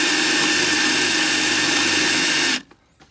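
A loud, steady high-pitched whir of a power drill running continuously while fitting trim tabs to a jonboat, then abruptly stopping and leaving a couple of faint clicks.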